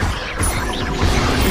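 Expelliarmus disarming spell cast during Hogwarts Legacy combat, a loud, dense burst of magical impact and rumble sustained for over a second, close and full.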